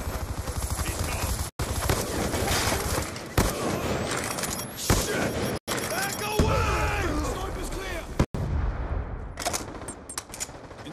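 Video game combat with loud, sustained automatic gunfire and dense volleys of shots, broken by brief gaps, while voices call out over the firing.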